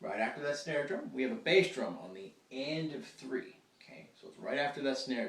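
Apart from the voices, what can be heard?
No everyday noise stands out behind the speech.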